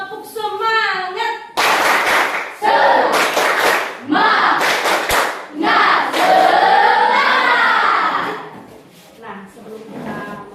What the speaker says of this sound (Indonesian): Mau minta tepuk semangatnya.